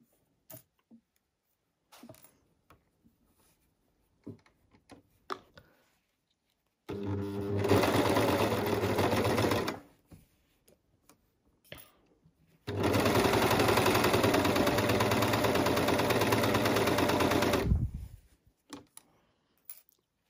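Sewing machine stitching a men's boxer: two sustained runs of steady, loud motor hum, the first about three seconds and the second about five, separated by soft clicks and handling noises and no voices.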